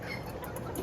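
A Brahma chicken clucks close by in a short burst of soft, rapid calls over a steady outdoor background.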